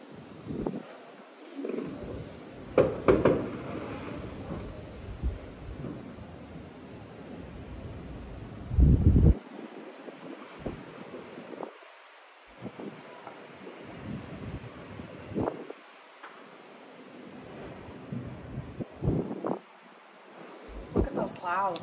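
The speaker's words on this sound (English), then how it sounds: "let's wait till the wind comes down a bit" Gusty outdoor wind buffets the microphone in uneven rumbling bursts, swelling and fading over about twenty seconds, with people talking intermittently over it.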